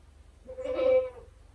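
A goat gives a single short bleat at middle distance, heard alone against a quiet outdoor background.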